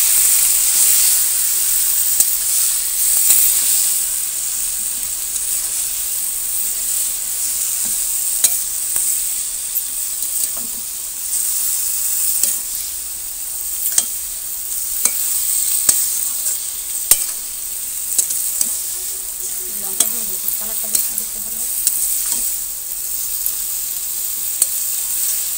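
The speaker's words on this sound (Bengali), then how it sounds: "কড়াতে তেল দিয়েছি, এবারে কড়াটা তো গরম হয়ে গেছে, এবার এটা ছেড়ে দিলাম" Lote fish and potato frying in hot oil in a wok, a bright steady sizzle and hiss throughout, broken by occasional sharp spatula taps and scrapes, close and without voices.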